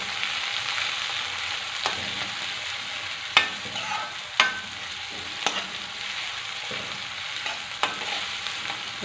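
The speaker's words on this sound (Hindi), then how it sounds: "तो प्याज को हम 2 मिनट के लिए भून लेंगे थोड़ी सी कलर चेंज करने तक।" Onions frying in a pan for a spiced potato, pea and fenugreek curry give a steady sizzle, broken now and then by sharp clacks of a spoon stirring against the pan.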